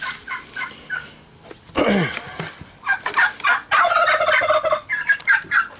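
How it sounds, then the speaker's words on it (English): Several turkeys gobble in loud, rattling bursts, overlapping one another at close range with brief pauses between calls. "The same turkeys as those little peeps I just showed you."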